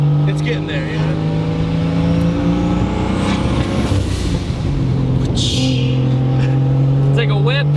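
A tuned Ford Mustang engine runs loud and steady on a dyno, holding a strong droning hum with shifting pitch and a brief rev swell midway, with chatter in the background.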